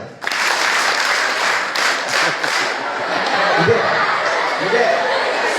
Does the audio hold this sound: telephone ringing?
no